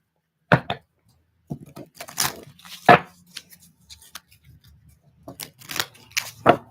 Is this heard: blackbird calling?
no